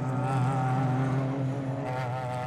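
Supertourisme touring race cars roar down the straight at the Lédenon circuit, a loud, continuous engine drone with rising and shifting harmonic pitch and no pauses.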